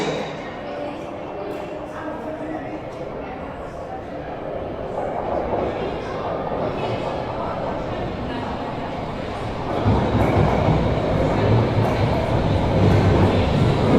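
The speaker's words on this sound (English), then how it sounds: "the train now approaching is to Cockfosters" A London Underground Piccadilly Line train approaches a station platform with a loud, steadily building rumble and rattle that grows heavier toward the end, while speech runs beneath it.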